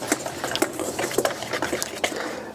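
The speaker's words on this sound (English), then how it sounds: "Just going to kind of whisk those dry ingredients together." Whisk beating dry ingredients and chili seasoning mix together in a bowl for cheese curd batter, a quick steady rhythmic tapping and scraping, close and moderately loud.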